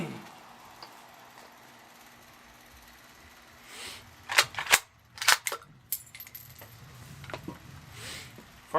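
Three sharp shots from a CZ 527 bolt-action rifle chambered in 7.62x39, fired outdoors at steel targets, sounding as quick, fairly faint cracks about half a second apart amid quiet background hiss.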